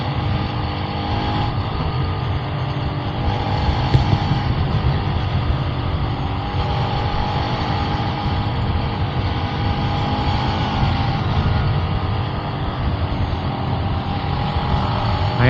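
A Bajaj Rouser RS200 motorcycle, recently repaired after a fault, rides steadily along a road during a test, with continuous engine drone and road rumble throughout and no talk.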